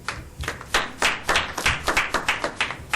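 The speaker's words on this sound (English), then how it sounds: "Applause to Joe" Meeting attendees applauding at an annual membership meeting, a modest, close group clapping in distinct, uneven bursts that continue steadily for a few seconds.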